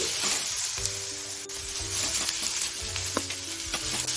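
Masala spices with garlic cloves, ginger and coconut dry-roasting in a pan, giving a steady close sizzle and crackle with occasional scraping stirs throughout, no voices.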